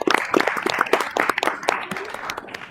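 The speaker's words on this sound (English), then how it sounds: "Let's give him a round of applause for joining the team." Applause at an evening school board of education meeting welcoming a new trustee: a dense burst of many hands clapping in a room, loudest at the start and thinning slightly over nearly three seconds.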